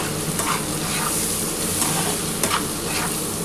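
Onion, tomato and green chili fry together in a pan with a loud, dense, continuous sizzle, broken by a few quick stirring scrapes.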